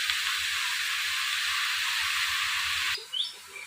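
A bottle gourd curry boiling hard over a high flame in a village kitchen gives a loud, steady broadband hiss for about three seconds, then cuts off abruptly, leaving a faint chirp.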